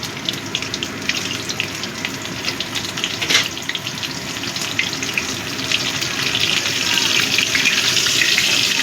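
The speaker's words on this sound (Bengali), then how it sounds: "এবার আমি ফুলকপিগুলো ভেজে নেব" Steady hissing sizzle of cauliflower frying in oil until lightly browned, a sharp clink partway through, the frying growing louder and denser toward the end.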